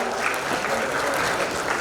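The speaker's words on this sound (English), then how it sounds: "Let's clap for the gorgeous lady in front." An audience at a panel discussion claps continuously, a dense, even patter of many hands at steady volume from start to finish.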